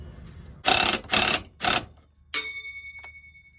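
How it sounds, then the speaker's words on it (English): A wrench working bolts on the top side of a truck's Cummins NP241 transfer case, three quick bursts of ratcheting clicks followed by a metallic ring. "I'm gonna have to get a wrench on the top side for these bolts."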